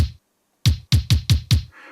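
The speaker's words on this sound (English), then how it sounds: "Now the kick originally sounds like this." A single punchy kick drum hit, then after a short pause five more kicks in quick, slightly uneven succession, deep and tight, with no other sounds.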